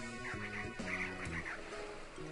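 A dog-like "wuff" bark from the Professor in the Pokémon Moon video game, a couple of short yappy barks over soft game music, fairly close and clear.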